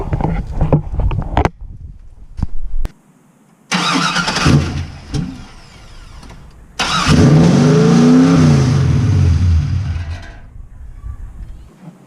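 Cammed LS1 V8 in an F-body Camaro cranks and fires, then idles loud and lumpy with a sharp rev burst; brief voices around it.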